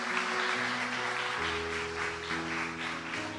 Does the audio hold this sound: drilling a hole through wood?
no